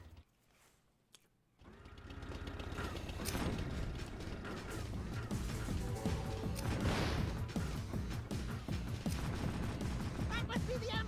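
Ammunition exploding amid gunfire in the Jak II video game: after a short quiet start, a dense, sustained mechanical rattle of rapid blasts and clanking plays under game music for several seconds.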